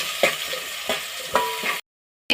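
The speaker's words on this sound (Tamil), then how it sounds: "இப்போ பட்டை லவங்கம் ஏலக்காவை போட்டுக்கலாம்." Cinnamon, cloves and cardamom frying in hot oil, giving a dense, steady sizzle with a few louder stirring scrapes, close up, ending abruptly in silence.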